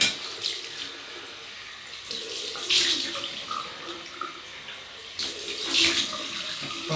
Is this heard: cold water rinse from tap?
yes